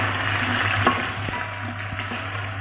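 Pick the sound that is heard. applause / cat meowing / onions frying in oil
onions frying in oil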